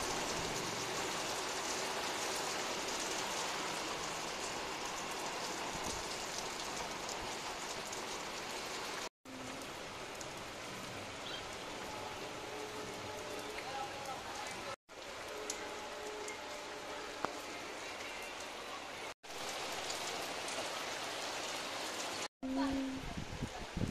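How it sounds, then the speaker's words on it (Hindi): Rain beginning to fall under dark monsoon clouds, a steady soft patter and hiss of drops on surfaces, broken by several short cuts, with someone speaking over it. "ये बारिश शुरू हो गई।"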